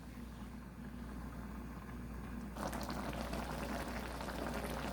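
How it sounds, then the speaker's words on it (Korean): A croaker and radish stew in a covered pot bubbles at a steady rolling boil, its hiss swelling louder partway through and carrying on without talk. "너무 맛있게 잘 끓고 있죠?"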